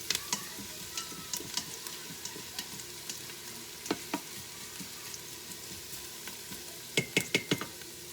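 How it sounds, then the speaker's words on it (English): Chicken grilling in a pan gives a soft, continuous sizzle with scattered crackles and pops, including a quick burst of sharper pops near the end, all fairly quiet and heard alone. "So I'm just grilling these up here."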